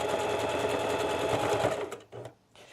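A sewing machine stitches a hoodie's fabric over its free arm, running in a steady, close, loud whir for about two seconds, then stopping and giving a couple of short bursts.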